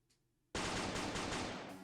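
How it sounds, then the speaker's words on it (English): Rapid, constant machine-gun fire from a video game, a dense loud burst of repeated shots that cuts in abruptly after a short quiet pause and continues without let-up. "The sound of Shiro's constant gunfire was enough to make me understand what he was trying to do."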